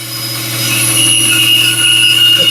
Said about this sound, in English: I cut it on the line as much as I can